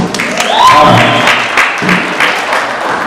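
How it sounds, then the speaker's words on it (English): Applause from an audience at a live Bronx poetry show, a short burst of clapping mixed with a raised voice at the start, then settling into scattered claps. "Round of applause if you know what 80-20 is."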